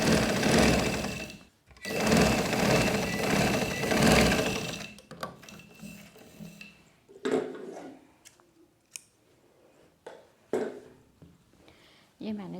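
A sewing machine stitches a sleeve onto an umbrella frock in loud, continuous runs with short pauses, followed by scattered handling and fabric noises.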